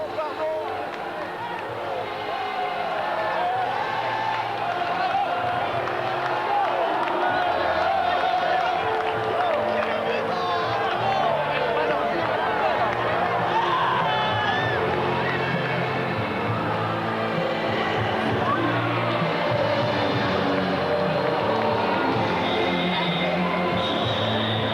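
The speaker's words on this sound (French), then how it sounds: "acclamé par toute une foule qui a pris possession de la pelouse" A large football crowd roars and cheers after the last match of the season, with fans flooding onto the pitch. The noise is a dense, steady wash of massed voices at close range and stays loud throughout.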